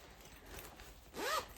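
A zipper on a sewn fabric bag is pulled in one brief, quick zip near the end, close but soft against a faint hiss.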